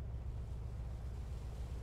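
A fishing boat engine in a North Atlantic fishing game runs as a steady, low rumbling drone with a faint washing noise over it and no talk.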